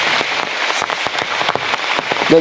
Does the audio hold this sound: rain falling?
yes